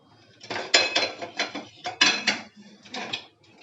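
A metal pressure-cooker lid, its whistle and gasket removed, is fitted onto the pot while baking an eggless orange cake: a quick run of close clanks, scrapes and metallic taps, with no talking.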